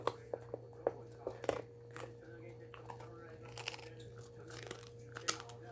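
A long-haired dachshund crunches and chews food up close, with irregular crisp bites and munching over a steady low background hum, while a person speaks softly now and then.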